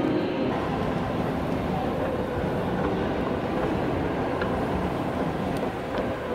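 Las Vegas Strip tram running between Mandalay Bay and Bellagio, a steady close rumble of the rail car with continuous low droning motion noise and faint murmuring voices inside the cabin throughout.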